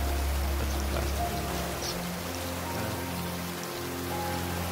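Steady rain pattering on surfaces and water in the survival game Raft, a dense, even wash of drops at moderate level with a low hum underneath and no talking.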